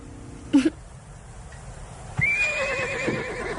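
A horse gives a short snort or whicker, then after a pause lets out a long, loud neigh that rises high and trails off, fairly close, with no talk over it.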